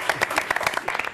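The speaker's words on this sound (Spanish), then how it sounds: "Te aplaudimos." TV studio audience applause, a short burst of distinct claps in quick irregular rhythm, moderately quiet, with voices faintly mixed in.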